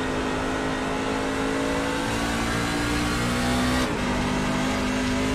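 NASCAR Cup car in iRacing at Watkins Glen, engine droning loud and steady at high revs on throttle, pitch dipping briefly near the end as power eases, with no voices over it.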